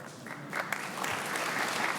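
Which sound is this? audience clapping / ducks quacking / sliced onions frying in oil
audience clapping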